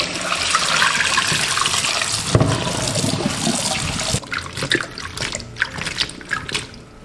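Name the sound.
washing soaked chicken-leg mushrooms under running water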